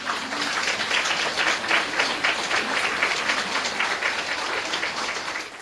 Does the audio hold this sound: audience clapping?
yes